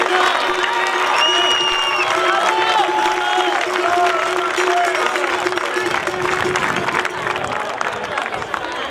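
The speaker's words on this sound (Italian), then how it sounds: "un applauso anche per Matteo, forza!" An audience at the Villacidro Skyrace 2018 award ceremony applauds Matteo with steady, lively clapping and crowd cheering that keeps going, while voices and a sustained tone sound beneath it.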